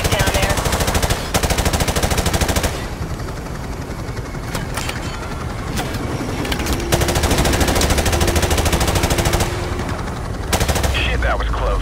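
Sustained automatic gunfire in the Modern Warfare Remastered USMC campaign, loud rapid bursts broken by short pauses, with engine drone underneath and voices talking over it.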